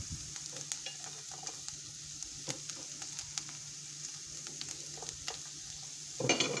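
Chopped garlic, two cloves, frying in a pan for a meatball and spaghetti sauce, giving a steady, soft, close sizzle with faint crackles and a brief clatter of stirring near the end; no one talks.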